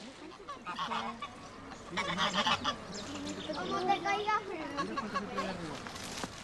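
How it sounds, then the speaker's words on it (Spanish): By the river in Mérida, birds call repeatedly, honking and squawking like geese or ducks, fairly close and loud, with a voice talking over them part of the time. "La banda sonora omnipresente es el canto de los pájaros"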